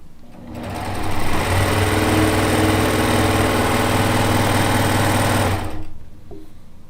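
A sewing machine stitches a quilt top in a steady, loud, continuous whir that runs for several seconds, then stops, leaving a quieter room with light handling noise.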